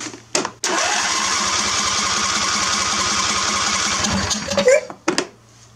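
An electric fuel pump on a Husqvarna hydrostatic riding mower whirs steadily after the key is turned, a close, even mechanical drone lasting several seconds, bracketed by a few sharp clicks and thumps.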